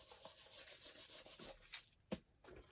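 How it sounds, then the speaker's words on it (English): A paper envelope rubbed firmly with a burnishing tool in steady back-and-forth strokes for about two seconds, followed by a couple of soft taps and a brief final scrape, heard up close. "I'm going to burnish that."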